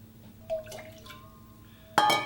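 Water poured into a Himalayan singing bowl, giving a thin ringing tone and soft drips, then a bright metallic splash near the end, close and fairly quiet.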